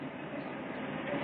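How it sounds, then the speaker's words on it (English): Steady low rumble of a passenger train drawing in at a station, continuous and moderately loud with no voices, a broad rolling noise without distinct clacks. "Well, there's our train."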